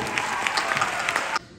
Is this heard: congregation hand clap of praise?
yes